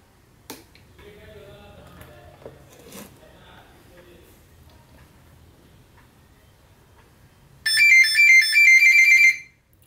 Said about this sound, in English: That sound is coming from the buzzer which we have attached along with the USB cable.